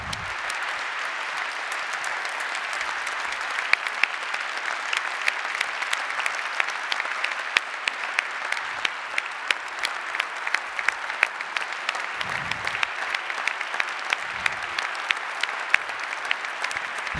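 Audience at the 2021 CNRS Gold Medal award ceremony applauding steadily, a dense, sustained wash of many hands clapping that continues evenly for the whole stretch.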